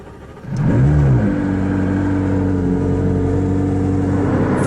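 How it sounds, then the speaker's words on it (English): A McLaren 675LT's engine cranks and fires into a loud, close rev that flares and then settles into a steady, rumbling idle, heard alone. "let's start her up"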